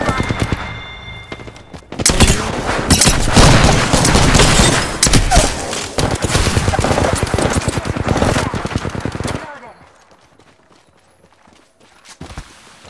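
Loud, rapid automatic gunfire in Apex Legends pounding steadily for about seven seconds, then fading out, with a few scattered shots near the end.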